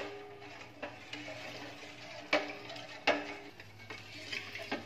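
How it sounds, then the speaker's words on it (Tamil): Almond milk is stirred in a pan, making faint scraping and soft swishing sounds punctuated by a few sharper clinks of the spoon against the metal, quiet and close, with no talking. "பால் போட்ட பிறகு கிண்டிட்டே இருங்க, விடாதீங்க"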